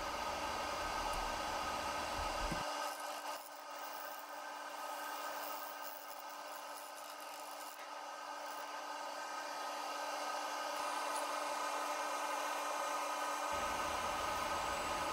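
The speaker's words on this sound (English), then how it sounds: "Here I'm using a Easy Wood Tools number one hollower with a negative rake tip." A wood lathe spins a cedar-shaving resin blank while an Easy Wood Tools hollower with a negative rake tip cuts into it, making a steady, fairly quiet hiss and hum with a low rumble dropping out for most of the stretch.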